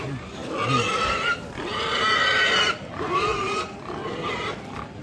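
A pig squeals loudly and continuously in harsh, strained bursts during a Mamasa-style pig slaughter at a Rambu Solo funeral ceremony, filling the whole stretch with only brief dips between cries.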